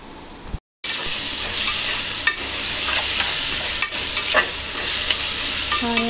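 Onions sauté in a pan for chicken curry, a continuous close frying hiss with occasional stirring scrapes and clinks, following a brief moment of silence at the start.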